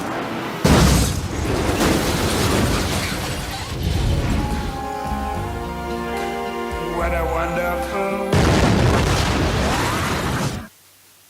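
Loud blasts from a movie trailer burst in near the start and again near the end, with music and a brief spoken voice between the booming explosions.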